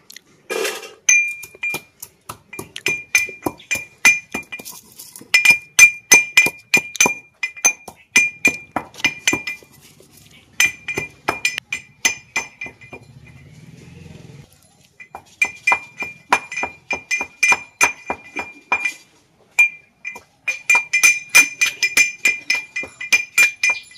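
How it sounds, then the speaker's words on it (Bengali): Coriander and cumin being ground for a potato smiley recipe: rapid, rhythmic clinking and tapping in repeated bursts, close and fairly loud, with a short pause and a softer low rumble midway. "এবার ধনে আর জিরেটাকে গুঁড়ি করে নেব।"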